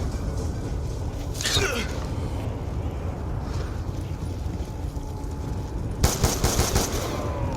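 An SMR rifle fires in Call of Duty Nuketown Zombies in short, rapid bursts: one early volley, then a louder cluster near the end, over a busy game backdrop.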